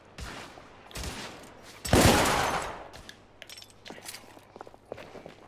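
A double-shot gun in The Order 1886 fires a loud blast that booms and fades, framed by quieter footsteps and small clanks before and after.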